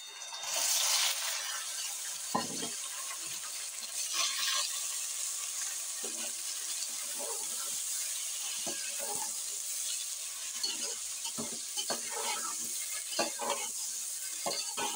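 Half a kilo of chicken breast frying with browned onions, a loud burst of sizzle as it hits the pan, then a long spell of steady frying with repeated scraping stirs.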